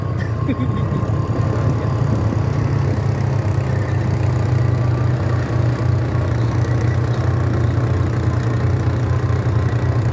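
A loaded motor tricycle idles with a constant low rumbling hum, close and steady, with faint talk mixed in.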